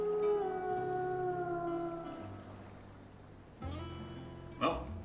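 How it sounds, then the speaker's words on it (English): A stock wolf howl sound effect from the Final Fantasy XVI video game rises and falls in long, drawn-out wavering tones, followed by a second, shorter howl over low ambient game music. "I'm pretty sure that that's a stock howl sound effect, which is funny"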